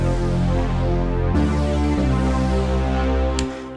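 Two stacked synthesizer patches in Logic Pro, a default synth layered with Epic Synth, play sustained chords with a rich low end and bright top, changing chord around the midpoint and fading out at the end, with no talking.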